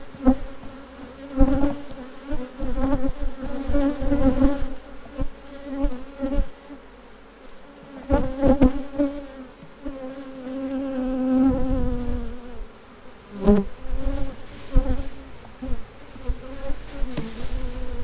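A dense, loud hum of many honey bees fanning together in a shaker box, droning steadily with surges and individual wingbeats passing close by.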